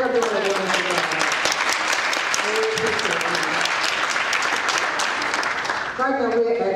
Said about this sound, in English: Y'all just give them a clap.